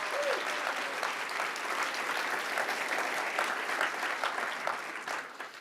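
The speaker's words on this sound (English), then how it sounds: "how about a round of applause to welcome Senator Mallory McMorrow" Audience applause welcoming a senator at an author event fills the room steadily and loudly, a dense wash of clapping that holds throughout and fades slightly at the end.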